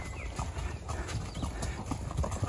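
Horse hooves clip-clopping on rock in Cappadocia while someone rides, an irregular string of close, hard clops over steady outdoor rumble, no speech.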